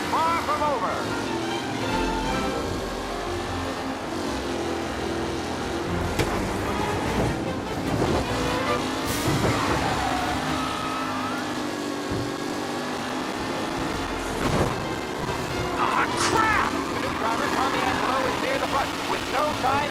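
Race car engines howl in a vintage-style race in Mafia: Definitive Edition, a continuous mid-distance roar with shifting pitch as cars pass, while a commentator voice talks over the top.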